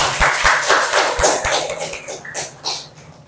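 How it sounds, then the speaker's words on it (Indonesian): A class of students in an Indonesian classroom breaks into applause, a dense, loud burst of hand clapping close by that thins out and fades over a few seconds. "Tepuk tangan dulu."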